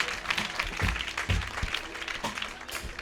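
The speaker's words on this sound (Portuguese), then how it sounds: "Vamos aplaudir ao Senhor." A church congregation applauds during a worship event, a full, steady round of clapping from many people with a few heavier thumps mixed into the dense wash.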